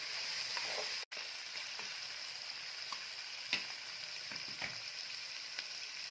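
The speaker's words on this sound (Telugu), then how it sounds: "ఇది ఒక ఐదు నిమిషాలు బాగా నూనెలో బాగా తిప్పుకోండి" Crab curry ingredients stirred and fried in oil, a steady close sizzle with occasional soft scraping stirs and one brief pause.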